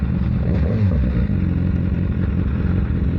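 A BMW S1000R motorcycle engine with auto blipping runs with a dense, continuous throaty rumble and rough mechanical clatter, loud and close throughout.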